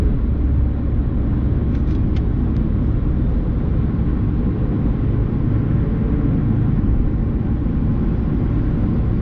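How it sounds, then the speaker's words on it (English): Steady low road rumble of traffic heard from inside a rental car while driving to a truck terminal, a continuous engine and tyre drone with no talk. "This traffic's getting a little bit crazy right now."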